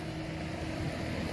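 Wind rushes across the microphone beside a Peterbilt 379 truck in a steady, broadband buffeting roar that stays fairly constant throughout, with no voices.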